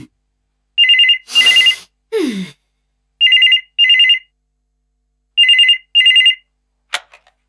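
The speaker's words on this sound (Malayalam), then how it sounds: "ഞാൻ പോട്ടാ, ഫോൺ എടുക്കട്ടെ." A telephone rings in paired electronic bursts, loud and close, three double rings separated by short pauses, with a couple of brief rustling noises between them.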